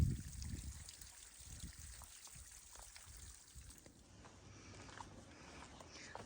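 Water trickling from a small natural fountain beside the Appalachian Trail on a wet morning: a soft, steady babbling trickle, faint and continuous, with a louder rustle at the start.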